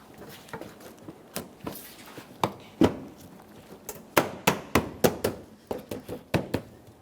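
A front bumper cover on a 2014-2019 Toyota Corolla is tapped into position against the fender, giving a series of sharp close knocks and thuds, sparse at first and then in a quick irregular run.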